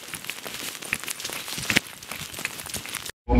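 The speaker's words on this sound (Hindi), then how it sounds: "काफ़ी बारिश है" Rain falling in Mürren, Switzerland, a dense close patter of drops and crackling hits on surfaces, steady throughout before cutting off near the end.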